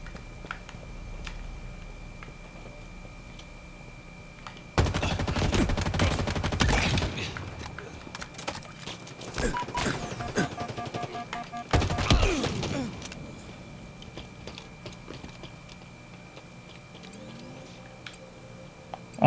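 Bursts of automatic gunfire from a Halo Infinite multiplayer match, several loud clustered volleys separated by quieter stretches of game ambience, with no talking.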